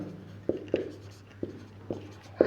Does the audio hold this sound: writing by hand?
yes